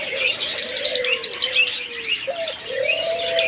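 A pair of doves at a bird farm calling, with bright chirps and tweets from many other caged birds around them, fairly close and continuous, with no voices.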